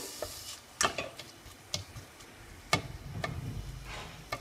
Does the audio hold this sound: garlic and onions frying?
yes